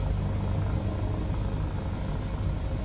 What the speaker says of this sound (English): It's a very fast, very capable helicopter